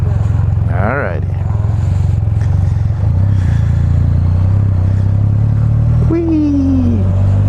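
A new Can-Am Spyder F3 three-wheeled motorcycle on the road, its engine a loud, steady low drone under wind noise, with brief voices and a short rising tone partway through.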